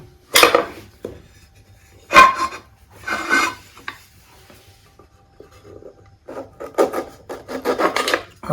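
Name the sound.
chopping lemons with a knife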